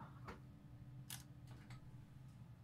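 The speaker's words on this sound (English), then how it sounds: "can hear a camera shutter" Camera shutter clicks during a Star Trek Bridge Crew game stream: several short, sharp clicks spaced irregularly over a steady low hum, fairly faint and close.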